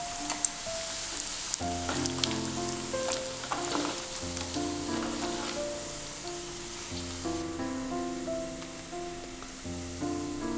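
Pakkavada frying in hot oil, a continuous soft sizzle and crackle of the battered snack while pieces are stirred and scooped out, with faint tonal kitchen sounds and no talking.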